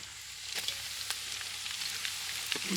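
Green chillies fry with onions in a village pan, a steady close sizzle broken by brief pops and crackles, with no voices.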